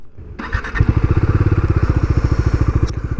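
A Bajaj Dominar 250 motorcycle starts close by, with a short crank and a catch, then settles into a loud, steady, rapid thumping idle.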